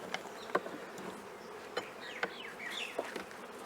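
A steady hum of many honeybees buzzing close by as bees are shaken from hive frames, with faint clicks and a few brief higher whines of individual bees passing.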